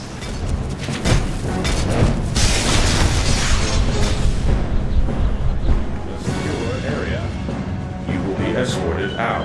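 A Batmobile explodes in DC Universe Online, with heavy booming bursts and rumbling debris filling a dense, continuous mix of game sound. Voices talk over it throughout.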